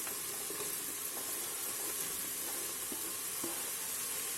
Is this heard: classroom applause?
no